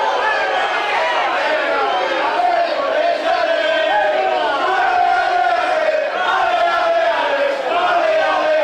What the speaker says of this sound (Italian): Tanto si fanno sentire i tifosi della Nuorese.